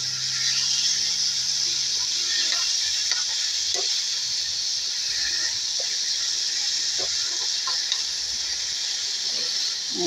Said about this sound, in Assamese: লতিখিনি ভাজি কৰিছোঁ কঁঠাল গুটি দি পেলাই।